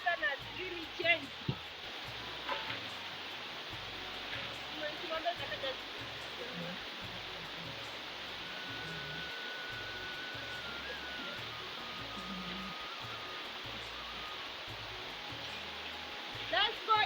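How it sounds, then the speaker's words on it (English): Heavy rain pours steadily on a village farm in rural Kenya, a dense, even hiss that runs throughout with faint low thumps and knocks beneath it. "As you can hear the voice of the rain"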